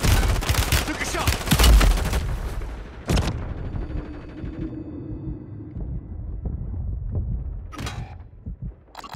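Gunfire in a military shooter video game: a dense burst of loud, rapid shots up front, a sharp single crack around three seconds, then scattered quieter reports and distant pops over a rumbling battlefield bed.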